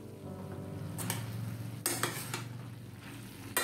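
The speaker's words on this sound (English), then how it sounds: "Keep stirring well and cover and cook." A spoon scrapes and stirs pyazkali stem pieces with prawns in a cooking pan. The food sizzles softly underneath, and a few clinks and knocks against the pan punctuate the short stretch. No one talks.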